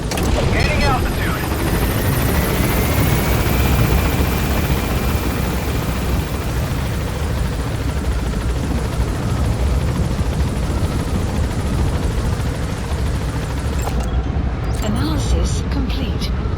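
Helicopter rotor and engine noise from the Metal Gear Solid V game, loud and steady as the aircraft gains altitude, holding a constant drone that cuts off sharply near the end.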